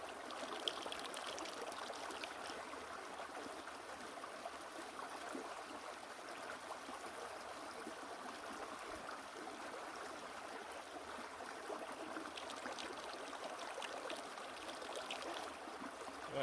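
Water poured from a Nalgene bottle to wet a Sawyer Mini filter outdoors on a backpacking trip, a steady soft trickling splash that runs continuously and faintly at close range.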